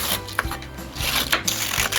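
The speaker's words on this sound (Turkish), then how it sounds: "Lahanamızı ince uzun şekillerde doğrayacağız." Several sharp knife chops through cabbage on a cutting board, irregularly spaced, close by, over a faint background hum.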